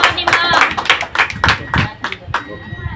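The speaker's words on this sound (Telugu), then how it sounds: "గట్టిగా చప్పట్లు కొట్టి దేవునికే సమస్త మహిమ." People clap loudly at a church house-blessing grand opening, with several sharp bursts of hand claps in an uneven rhythm, close and prominent, mixed with voices talking over them.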